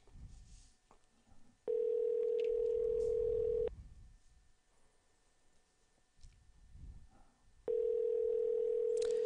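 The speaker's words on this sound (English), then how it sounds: "let's give him a call" Two long steady phone ring tones sound clearly, separated by a pause with faint background noise, like a call ringing out on a line.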